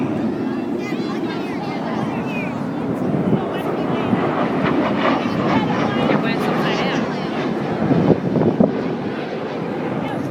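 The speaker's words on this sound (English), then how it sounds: "They're going to pull the throttles back to idle, roll it upside down, and listen to how quiet the Super Hornet can be." An F/A-18 Super Hornet makes an inverted low pass at idle throttle during the 2011 Jones Beach air show, a steady, fairly quiet broadband jet rush mixed with wind buffeting on the microphone, with voices faintly in the background.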